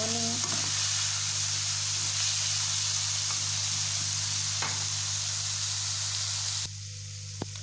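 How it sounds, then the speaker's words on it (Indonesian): Coated chicken sizzles and crackles loudly as it fries in hot oil, a constant bright hiss with occasional pops and a brief clatter near the end. "ini ayam yang tadi yang sudah dibaluri, terus kita goreng hingga menguning"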